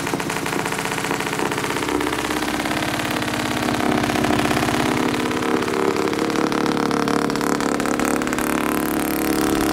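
An old hovercraft engine, back in use after twenty years off the water, idles loud and close in a steady, rough drone that holds for the whole stretch without breaks.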